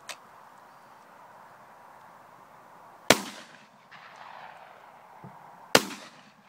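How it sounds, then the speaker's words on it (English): Two sharp, loud shotgun blasts from a 10 bore Lincoln double-trigger shotgun firing home-loaded cartridges, about two and a half seconds apart, each with a brief echoing tail over quiet outdoor background. "we'll fire two shots off the double triggers just to make sure that everything's working okay"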